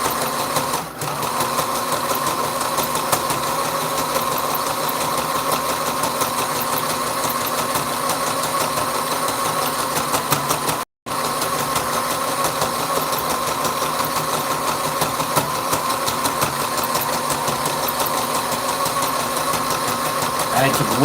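A sewing machine runs steadily while someone sews, a continuous close mechanical whir with a rapid repetitive beat that stops for a split second midway, then resumes at the same pace.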